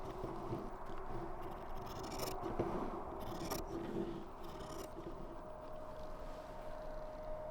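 Scissors cutting fabric strips for bias tape, a few faint snipping and scraping strokes in the first half over a quiet room hum, with no speech.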